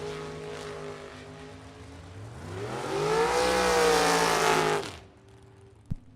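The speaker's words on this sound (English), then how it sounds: "What a drag race." Drag racing cars roar down the strip at a bracket race, engines building to a loud, rising howl that peaks before cutting off, followed by a faint idle and a brief sharp knock near the end.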